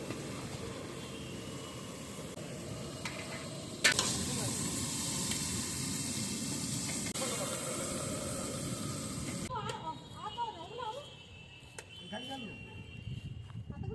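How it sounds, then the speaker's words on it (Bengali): Potatoes frying in a pan during outdoor cooking of khichuri for a Saraswati Puja offering, a steady loud sizzle with stirring throughout, thinning out near the end as people talk nearby. "আমি আলুটা ভেজে নিচ্ছি।"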